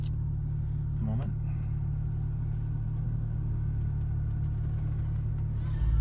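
A 2007 Porsche 911 Turbo idles just after start-up, a steady low engine rumble that holds even throughout, close by and with no talking over it.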